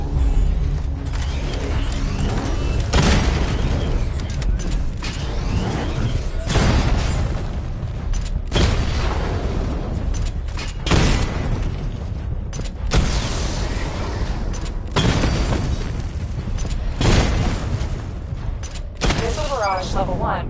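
Batman Arkham Knight's Batmobile weapons firing and blasting targets, repeated loud booming impacts and mechanical bursts in a steady rhythm, with a synthetic voice speaking between hits.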